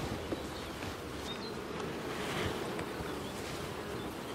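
Honeybees hum in an opened hive outdoors, a dense, steady buzzing swarm that stays fairly faint and even, with light breeze noise and no talking.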